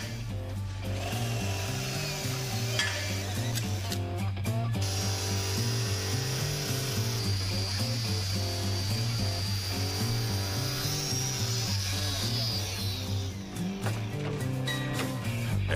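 Plastic lower section of a Dakota pickup's front bumper being cut with a power tool, a steady loud droning cut running throughout with some grinding texture and no talk.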